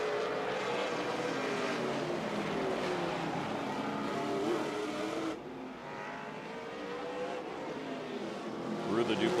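NASCAR Pinty Series race cars lapping the Grand Prix de Trois-Rivières street circuit in practice, a steady loud engine roar with passing surges that drops slightly midway, commentary talk running over it.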